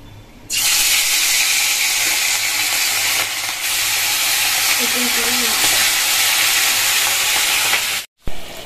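Hilsa fish frying in hot oil in a wok, a loud steady sizzle that starts abruptly and holds at full strength for several seconds before cutting off near the end.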